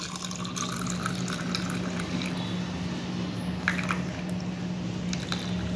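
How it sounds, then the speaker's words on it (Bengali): Half a cup of milk poured steadily into a bowl or cup for Dalgona coffee in a home kitchen, a soft continuous liquid trickle with faint splashes, fairly quiet and alone. "প্রথমে আমি দুধটা ঢেলে দেবো, 1/2 কাপের মতো দুধ দেবো আমি"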